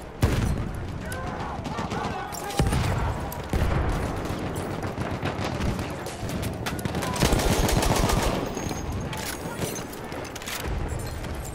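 Enemy machine-gun fire in Battlefield 1 on the Suez map, rapid loud bursts chattering almost without pause amid booms and battlefield clutter, with shouting voices mixed in.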